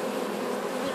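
Honeybees buzz around a hive while a new queen is being introduced, making a steady, dense, close droning hum that holds without a break and has no voices over it.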